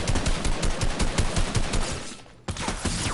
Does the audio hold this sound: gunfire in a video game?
yes